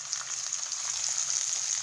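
Onion paste for a wedding-style chicken roast sizzles in a hot pan, a steady, close, bright hiss with no talk over it.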